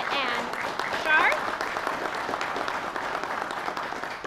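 A room of attendees at a community talk on soil health and regenerative farming applauds, a steady wash of clapping with a voice and some chatter carrying over it.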